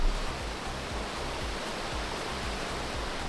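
A waterfall on the Enchanted Valley trail in Olympic National Park roars as a dense, even wash of rushing water, loud and close, with no voices over it.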